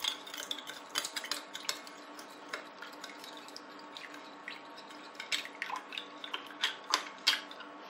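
Sugar and dry baker's yeast being stirred in a bowl, a spoon scraping and clinking against the sides in quick, irregular strokes, close and fairly quiet.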